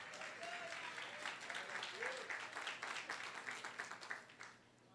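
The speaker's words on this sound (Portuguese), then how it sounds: "Para mim está bom esse aplauso." A church congregation applauds, the clapping fairly faint and distant, steady for several seconds before tapering off, with some voices mixed in.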